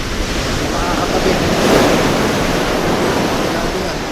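Big ocean waves crash and surge onshore during rough weather, a loud, continuous roar of surf with wind noise battering the microphone, building slightly toward the middle.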